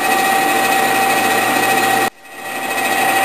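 A metal lathe at 150 RPM turns down a cylinder base under automatic feed on its last pass, a steady machine whine with a clear tone that cuts off abruptly, then a quieter hum builds back up.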